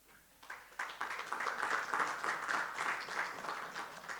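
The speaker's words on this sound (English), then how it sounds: "That deserves a round of applause" An audience at an academic colloquium book launch applauds, a dense, moderately loud spread of many hands clapping that starts abruptly and holds steady for several seconds.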